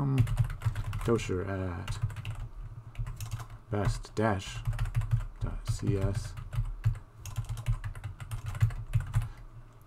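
Rapid clattery keystrokes on a computer keyboard while entering an SSH command in a terminal, irregular bursts of close taps running under intermittent speech from a nearby voice.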